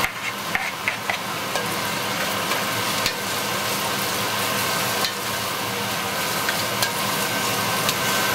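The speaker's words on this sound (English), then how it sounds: "I am now going to add my garlic." Garlic hits onions frying in a pan, giving a steady loud sizzle with occasional spoon scrapes and stirring clicks throughout, with no talking.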